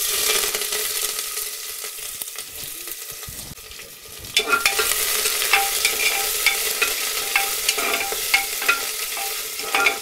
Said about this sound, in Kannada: ಎಣ್ಣೆಗೆ ಈರುಳ್ಳಿನ ಚೆನ್ನಾಗಿದೆ ಫ್ರೈ ಮಾಡ್ಕೋಬೇಕು ಈ ರೀತಿ